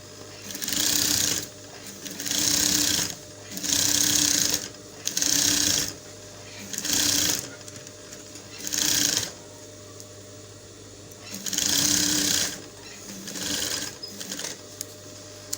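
A sewing machine stitches a pocket and its facing together on a pair of shorts, running in about seven loud, close bursts of rapid needle whirring with short pauses between runs.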